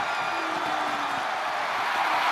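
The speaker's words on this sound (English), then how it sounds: "The sound of this crowd is deafening, and he's asking for more." Wrestling video game arena crowd roaring in a dense, continuous wash of cheering that fills the whole moment without letup.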